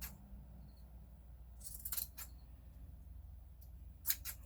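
Scissors cut material for a junk journal cover: two short, crisp bursts of snipping, one around the middle and one near the end, fairly quiet over a low steady background hum.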